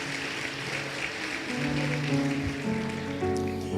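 A congregation applauds at a church service: steady, dense clapping throughout, with sustained keyboard or organ tones rising beneath it about halfway through.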